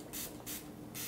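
A spray bottle misting water onto a watercolour beach painting, three short close hissing bursts spaced evenly apart over a faint background.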